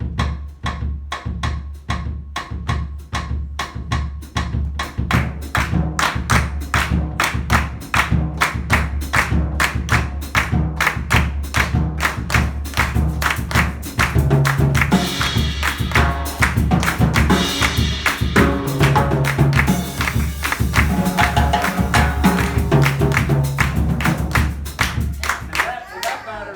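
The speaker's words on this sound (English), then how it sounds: "That clapping pattern is the pattern that's played on the bass drum instead of in the samba or bossa nova or choro music." Steady hand clapping keeps a Brazilian Northeast rhythm, the pattern otherwise carried by the bass drum, running through the whole stretch over a sustained musical backdrop, with extra percussive accents midway.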